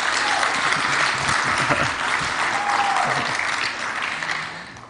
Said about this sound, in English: Give Justis a round of applause.